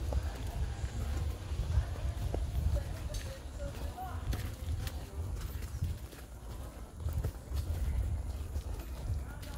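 Horse hooves clip-clop unevenly on a horseback ride, steady muffled steps under a low rumble of wind and movement, with voices talking at times.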